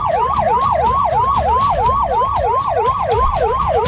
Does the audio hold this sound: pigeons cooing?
no